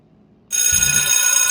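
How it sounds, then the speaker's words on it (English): After a brief silence, a bright electronic bell rings steadily and loudly, sustained with a shimmering tone. "Do I got to ring the bell sound effect?"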